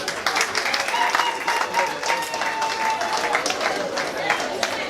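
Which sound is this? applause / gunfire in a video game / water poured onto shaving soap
applause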